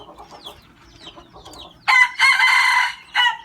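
A young fighting rooster, still learning to crow, crows in several rough, uneven bursts, loud and close, after a stretch of quieter clucking and chirping.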